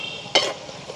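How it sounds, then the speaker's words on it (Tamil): Elephant foot yam and potatoes deep frying in hot oil, a short bright burst of sizzling and bubbling that swells for a moment, then settles back to a quiet hiss. "இது வந்து வேகமாக பொரிஞ்சிடும் எங்களுக்கு கருணக்கிழங்கு வந்து."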